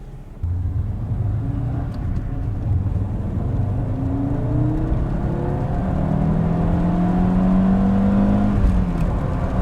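Small car engine revving hard to about 6,000 RPM in a restored Audi Coupe GT, a loud, close rising whir and rumble that climbs steadily over several seconds.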